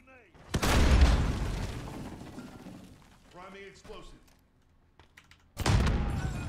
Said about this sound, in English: Explosive. Fucking Claymore!